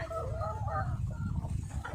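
Laying hens clucking and murmuring softly nearby during hot weather, a low, busy chatter of short calls over a steady background hum.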